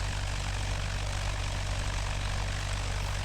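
Propeller aircraft engines droning steadily in flight, a constant loud hum with a low rumbling undertone and no break, heard alone without voices.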